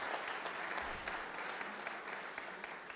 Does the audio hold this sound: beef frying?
no